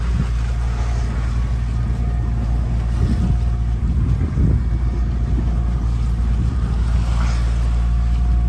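Sailboat motoring under genoa and diesel engine through swell off Greece, a steady low engine drone and hull rumble with wind and water noise, constant and close.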